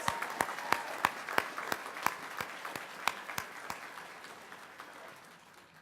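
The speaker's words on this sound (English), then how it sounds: "Let's give our HVAC technology graduates one more round of applause." Scattered applause from a graduation audience for HVAC technology graduates, distinct individual claps in an uneven rhythm that thins and fades toward the end, fairly quiet and with no talk over it.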